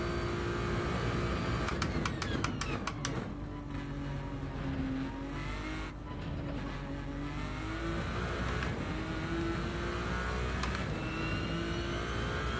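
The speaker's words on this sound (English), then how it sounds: "That's the turbo that I can hear?" A turbocharged car engine in the video game Gran Turismo 7 roars and revs continuously, with rising and falling pitch as gears shift, loud and up close with a faint turbo whine.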